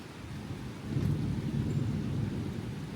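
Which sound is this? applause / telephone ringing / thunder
thunder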